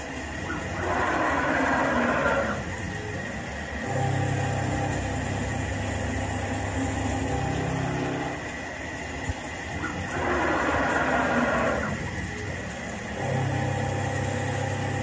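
A retrofitted Brother TC-227 CNC mill running at 2,000 RPM makes a light skin pass. It gives a steady mechanical hum, and at regular intervals a louder cutting whine and a low drone rise and fall in repeated cycles.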